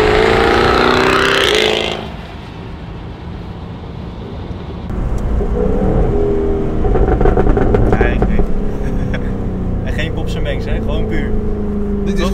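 A Jaguar F-Type V8 S, a 500 hp rear-wheel-drive car with an automatic gearbox, driven in the rain: a loud burst gives way to a deep, steady engine rumble that swells and holds, heard from inside the car.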